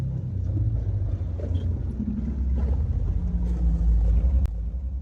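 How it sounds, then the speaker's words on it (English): Lowest pitch of the Tabernacle Choir organ, sounded by a 45-foot pipe: a deep, steady low rumble that fills the whole stretch at constant loudness, earthquake-like, with no other sounds over it. "So that's the lowest pitch on the organ right there"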